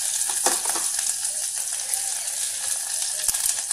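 Garlic and green chilli frying in hot oil in a pan for carrot rice, giving a steady close crackling sizzle throughout with a few scraping stirs over it.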